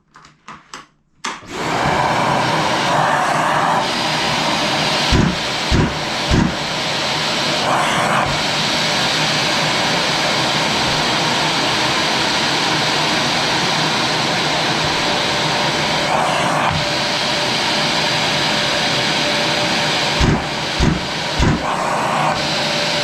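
A Bosch GAS 35M wet/dry extractor starts up and runs at reduced power, a steady loud whooshing motor drone that holds for a long stretch, with a few brief thumps and shifts in pitch as the hose seals against a table.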